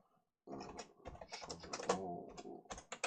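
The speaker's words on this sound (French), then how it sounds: "vous appuyez sur la touche Q de votre clavier. Et là, vous pouvez taper ce que vous voulez" Typing on a computer keyboard, a quick irregular run of close, crisp key clicks after a brief silence, continuing to the end with no voices.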